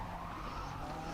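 Tires skidding and squealing under late braking in a racing video game with a tuned car, a steady, continuous screech over engine noise, fairly quiet and without voices.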